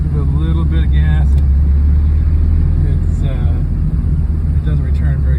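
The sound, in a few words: mid-engine Dodge SRT-4 engine revving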